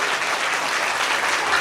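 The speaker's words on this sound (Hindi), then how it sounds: "जोरदार तालियां पूरी टीम के लिए" Steady crowd applause from an audience at a religious discourse gathering, praising the whole team; many hands clapping in a continuous, even wash with no break.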